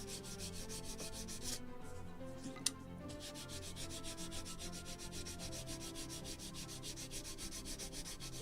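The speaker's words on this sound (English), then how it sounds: "sand a little this side because it is very hairy, curly, etc." Wooden seat part from a Model Shipways kit of the 1776 gunboat Philadelphia being sanded by hand: steady rapid back-and-forth rasping strokes, close and fairly soft, pausing briefly midway, with no talking.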